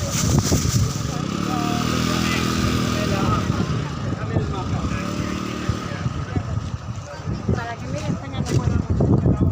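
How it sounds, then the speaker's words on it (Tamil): Vehicles pass along a busy street near Vatican City, with a loud close motor engine drone and clatter rising and falling as a person talks over the traffic. "காரணம் என்னென்னு பார்த்தா வண்டி போயிட்டு வந்துட்டு தான் இருக்குது"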